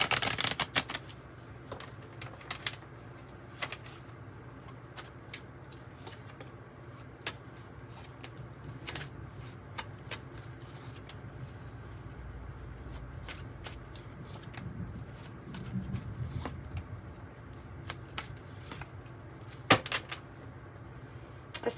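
Tarot cards being shuffled by hand, a soft papery riffling and sliding that runs steadily throughout with scattered sharper taps and flicks, close and fairly quiet.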